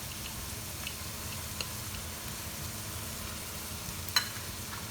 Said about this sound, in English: So let's saute this for some time